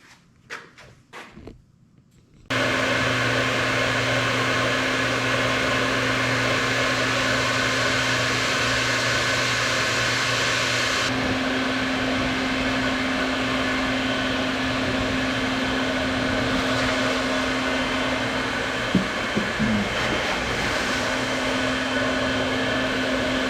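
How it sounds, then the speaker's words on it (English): A central vacuum system runs loudly and continuously while cleaning up miter saw dust, a steady broadband roar with a strong hum, starting abruptly after a few faint knocks and holding alone without talk. "So you can see how it cleaned up very, very well with the central vacuum system here."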